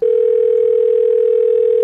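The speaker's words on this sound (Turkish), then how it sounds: "Bu arada Pofud'u bir arayayım bakalım telefondan. Tamam çalıyor arkadaşlar." A phone's outgoing-call ringing tone, steady and loud, holds one unbroken pitch throughout with no talking over it.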